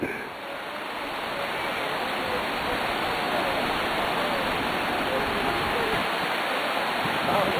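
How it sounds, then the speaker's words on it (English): Waves roll in at a beach near Vigan, a continuous broad wash of surf that stays close and steady throughout. "Right near the beach"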